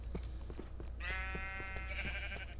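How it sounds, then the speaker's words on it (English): Sheep bleating inside a cave in a video game, two drawn-out tonal bleats at moderate distance over a low steady ambient hum with faint rhythmic clicks. "meet all these beautiful cave sheep along the way"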